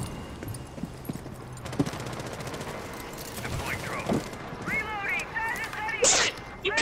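Video game gunfire rattles in repeated bursts through a busy battle soundscape, a rapid fusillade of shots at middling loudness with other game effects layered over it.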